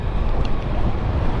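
Strong cold wind blows and buffets the microphone, a loud low rumble with a rushing hiss, continuous and unbroken.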